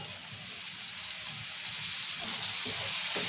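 Tomatoes going into hot oil in a frying pan already holding onion, green chillies and curry leaves, making a steady hissing sizzle that grows slightly louder toward the end, with no voices.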